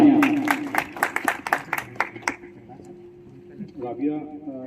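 An audience at a celebration gathering breaks into scattered applause, with distinct claps over the first couple of seconds that then fade, leaving a sustained tone and a few voices near the end.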